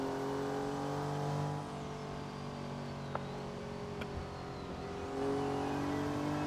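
A Porsche 959 replica car mod by C13 Automotive revs and accelerates, its engine note droning and climbing in pitch, then briefly easing before surging louder again, close and alone without talk.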